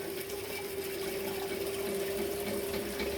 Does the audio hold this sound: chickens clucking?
no